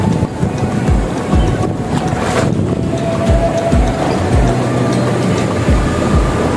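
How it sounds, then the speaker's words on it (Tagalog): Strong ocean waves break on a beach in Da Nang, Vietnam, a continuous loud rush of surf with gusting wind buffeting the microphone and occasional low thumps, no talking. "Lakas ng alon."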